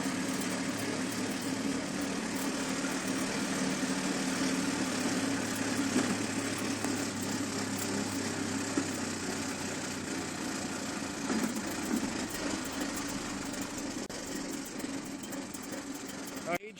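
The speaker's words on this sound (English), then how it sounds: "That's exactly how I want my lawnmower to sound." A small lawn mower engine runs steadily and continuously at close range, a droning mechanical hum that holds near-constant loudness throughout, with some speech-like activity mixed in.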